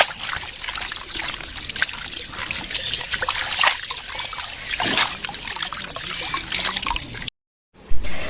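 Spinach sitting in a basket is rinsed directly under a running tap, with a continuous trickling, splashing stream of water at close range that cuts out briefly near the end.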